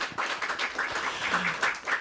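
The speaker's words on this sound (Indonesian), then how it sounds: "Boleh kasih tepuk tangan buat Prof Lely?" An audience on an Indonesian talk show applauds a professor, producing a short burst of close clapping that swells and dips slightly across two seconds.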